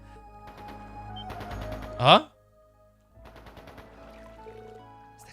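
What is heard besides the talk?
gunfire in the video game Trails into Reverie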